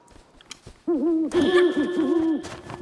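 Owl hooting in the video game Never Alone: a few soft clicks, then a loud, close, wavering hoot series with a bright ringing layer joining partway, repeating in quick warbling pulses until the end, no speech.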